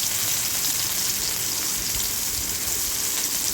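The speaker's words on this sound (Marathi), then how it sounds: "मिरच्या आता 2 मिनिटं मी तेलामध्ये जरा भाजून घेणार आहे।" Green chillies fry in hot oil in a kadhai, giving a steady, dense sizzle that holds evenly throughout with no talk.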